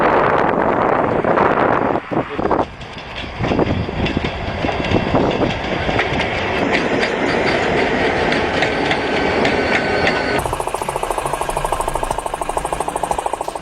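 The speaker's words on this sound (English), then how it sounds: "looking at a specialized snowplow mounted on an old Vanderbilt tender" A rail snowplow mounted on an old Vanderbilt tender pushes through snow, with a loud continuous rumbling roar, rhythmic clicking of wheels and gusts of wind buffeting the microphone, no talking.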